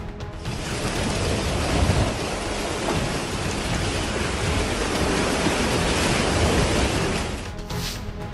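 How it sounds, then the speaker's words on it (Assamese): Dense, steady roar of a violent thunderstorm with heavy rain and hail, loud and continuous for the whole stretch, with no voices. "দেওবাৰে হঠাৎ অহা প্ৰচণ্ড ধুমুহা শিলাবৃষ্টিয়ে ৰাজ্যজুৰি তাণ্ডৱৰ সৃষ্টি কৰে"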